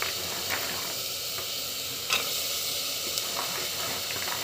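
Chili powder and spices stirred and sautéed in a pan, a soft continuous sizzle with occasional scraping clicks of a spoon, close and without speech.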